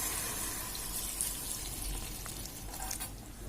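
Steady watery hiss and splashing from water poured into a hot pan of cooking bean and potato curry, with a faint sizzle underneath, continuous for a few seconds.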